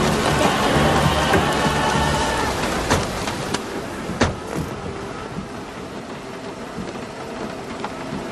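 Heavy rain pours steadily on a street around a taxi, a dense close hiss with a few sharper knocks and thuds of drops or a car door along the way, and no voices.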